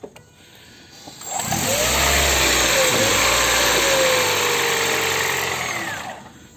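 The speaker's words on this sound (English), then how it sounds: "and here's the engine noise." Toyota Corolla hybrid (2018-2021 ICON Tech VVT-i) with its petrol engine starting and running under acceleration, a loud droning whine that climbs in pitch, holds for several seconds, then cuts off abruptly, with no talking over it.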